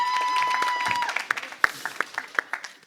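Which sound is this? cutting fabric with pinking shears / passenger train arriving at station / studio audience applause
studio audience applause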